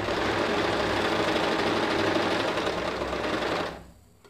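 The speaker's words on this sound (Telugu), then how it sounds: "ఈ ఎడ్జ్లో వచ్చేలాగా కుట్టేసుకోవాలి మనం" A sewing machine stitches cloth edges for dori piping, running steadily and close at a constant fast whirr for several seconds before stopping abruptly near the end.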